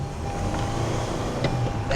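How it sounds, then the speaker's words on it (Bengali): A red wine-coloured Toyota Harrier car accelerates, giving a steady low engine drone from close by with a brief rise in tone near the end, and no talking. "অ্যাক্সেলারেট করলে গাড়িটা ইট উইল জাস্ট ফ্লাই।"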